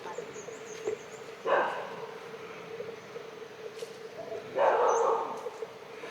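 Dogs in an orange grove give two short bursts of barking at a moderate distance, separated by a few seconds of quieter outdoor ambience with faint bird calls.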